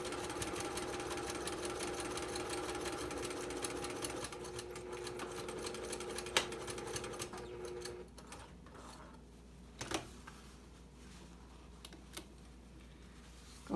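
A sewing machine stitches fabric for an Olson face mask, giving a steady close mechanical whir for about eight seconds before stopping, followed by a few quiet clicks and taps.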